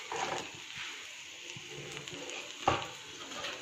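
Turmeric and chili powder fry in a pan for a koi fish and potato curry, a faint, steady sizzle with a single sharp utensil clink near the end.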